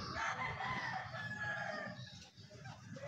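A rooster crowing at a Philippine backyard poultry pen, one loud drawn-out cock-a-doodle-doo close by over a low background rumble.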